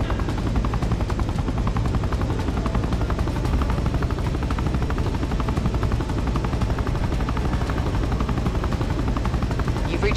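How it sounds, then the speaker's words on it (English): A helicopter in the video game ZOZ: Final Hour flies with a steady, loud rotor thrum that runs unbroken for the whole stretch and is heard alone. "First, steer the chopper to the glowing circle up ahead."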